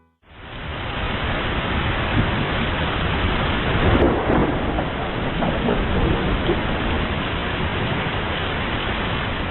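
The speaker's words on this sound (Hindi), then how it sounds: "तब वर्षा आरंभ हुई।" A thunderstorm with torrential rain roars steadily and loudly, a thick wash of downpour with a deeper rumble of thunder swelling around the middle, no voices present.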